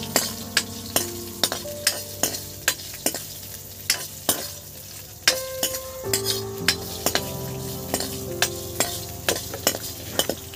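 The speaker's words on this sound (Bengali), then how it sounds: "এই দেখুন কাজুটা দিয়ে দিলাম, দিয়ে একটু নেড়ে চেড়ে নেবো।" Cashews are stirred and fried in a pan: a metal spatula clinks and scrapes against the pan in a steady rhythm of sharp taps over a low, continuous sizzle.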